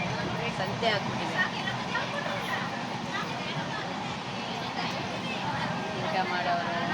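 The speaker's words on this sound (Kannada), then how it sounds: "ಟ್ರೈನ್ ಒಳಗಡೆ ನೋಡಿ ಸಂತೆ ಆಗ್ಬಿಟ್ಟಿದೆ" A crowded passenger train carriage in Andhra Pradesh, bound for Kashi, fills with dense overlapping chatter from many people, a continuous babble over the low rumble of the moving coach.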